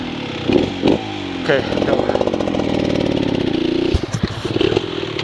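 An enduro motorcycle with a fouled spark plug revs loudly and steadily in sandwash terrain, its engine buzzing with rising and falling throttle while a person speaks briefly over it.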